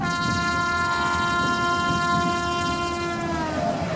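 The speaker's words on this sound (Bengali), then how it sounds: "হু হু করে ট্রেন ছুটছে।" A train horn sounds a long, steady, sustained blast that fades slightly near the end, over the continuous rumble of the train running on its rails.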